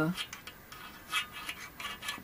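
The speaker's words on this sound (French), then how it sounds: "je vais prendre un tournevis cruciforme pour pouvoir enlever la plaque de dessus" Faint scraping, rubbing metal sounds come from a Phillips screwdriver working on the top plate of a floppy disk drive, a few short quiet scratches and clicks at close range with no other sound.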